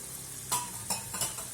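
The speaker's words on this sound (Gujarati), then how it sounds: "હવે આને થોડીક વાર સાંતળી લેશું" Chili powder and coriander-cumin masala being sautéed in a pan for a Kathiyawadi stuffed brinjal and potato curry, with three quick stirring scrapes over a soft sizzle, close and fairly quiet.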